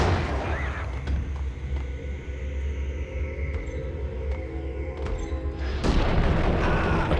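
A grenade blast in the 2001 PC shooter Max Payne, a heavy booming explosion with a sustained low rumble and debris clatter, followed by a second loud burst near the end.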